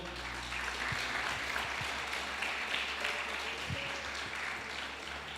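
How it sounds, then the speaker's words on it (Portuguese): Church congregation applauding during a worship service, a sustained, fairly soft wash of many hands clapping that fills the room evenly, heard from some distance with a low background hum. "Você pode aplaudir ao Senhor?"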